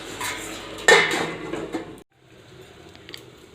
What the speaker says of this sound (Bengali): এই দেখুন আমি এবার ঢাকাটা খুলে দিচ্ছি।